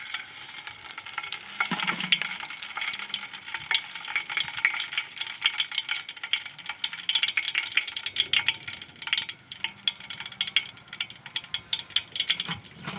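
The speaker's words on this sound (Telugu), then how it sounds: "ఆవులు, మెంతులు, జీలకర్ర అండి పోపులో వేసుకోవాలి." Mustard, fenugreek and cumin seeds sizzle and crackle in hot oil in a kadai for Nellore fish curry, a steady dense frying hiss with stirring, close and continuous, no voices.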